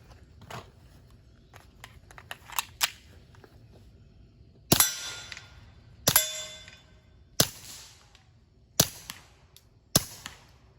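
Suppressed Keltec P17 pistol with a Rugged Mustang suppressor firing Fiocchi subsonic .22 ammunition, five sharp, muted cracks spaced about a second apart, close by, after some quieter handling clicks.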